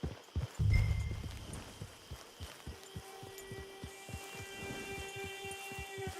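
Steady clip-clop of horse hooves at a trotting pace in the video game Red Dead Online, moderately close, with a faint tonal hum running underneath.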